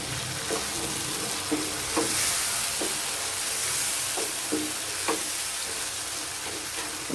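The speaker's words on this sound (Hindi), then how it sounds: "अच्छे से इनको फ्राई कर लेंगे थोड़ा सा इसमें, ताकि मसाला जो है वो इनके अंदर चला जाए" Frozen kebabs fry in masala in a pan, a dense, steady crackling sizzle broken by a handful of soft spatula taps and stirs.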